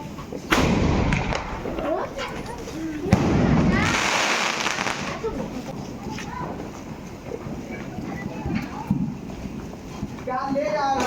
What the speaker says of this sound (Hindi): चलाते हैं पटाखे क्योंकि पटाखे चलाएंगे हम लोग नीचे